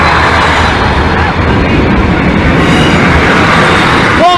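Class 153 diesel unit passing Lincoln Central level crossing, a loud steady rumble and rolling roar throughout, with a brief rising tone near the end.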